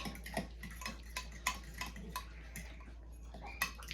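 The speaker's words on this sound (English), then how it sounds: "you're just going to mix the yeast" A fork mixes yeast in a bowl, making soft, irregular metallic clinks and taps against the sides. The sound is faint and close, with a low steady hum underneath.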